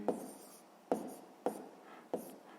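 A pen writes out a sixth-grade maths answer in four short, distinct scratching strokes spaced under a second apart, quiet and close.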